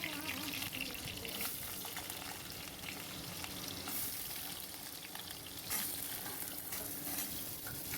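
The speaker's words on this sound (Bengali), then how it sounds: "সব আলু দেওয়ার পর ভালো করে নেড়ে নিতে হবে" Cut potatoes frying in a pan with green chillies and nigella seeds, making a continuous crackling sizzle broken by the scrape and rustle of stirring.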